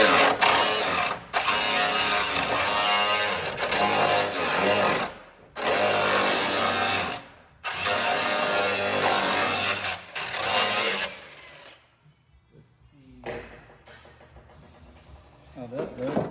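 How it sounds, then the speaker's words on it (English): Loud, continuous grinding whine of a large sanding disc working a fiberglass FJ40 door, cutting out in several pauses before stopping; a few quieter clunks follow. "thanks to Todd Volt, these nice big sanding discs."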